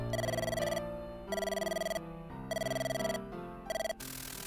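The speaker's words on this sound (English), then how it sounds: "At that moment, the phone rang." An old-style telephone rings in the horror video game Mirrors, sounding as three long electronic bell bursts and a short fourth, separated by brief pauses, loud and close, with no voices over it.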